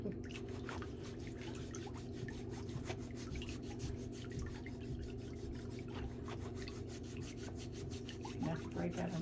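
A foot file rubs a diabetic foot with toenail fungus during a pedicure, making faint, rapid, rhythmic rasping strokes that continue steadily throughout.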